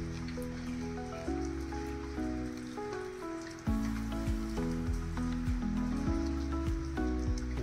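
Monsoon rain falling in a Konkan village, a steady even patter spread beneath prominent background music.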